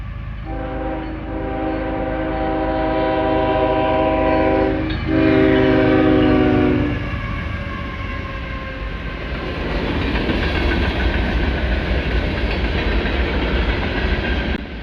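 CSX freight train 634 passing in Delaware with two MBTA F40PH-2 locomotives, a loud chord horn sounding in two long blasts close by, followed by the rumble and rhythmic clatter of cars rolling past.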